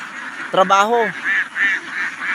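Domestic ducks raised on a farm give one drawn-out nasal call, then a run of short, evenly spaced quacks, close and moderately loud.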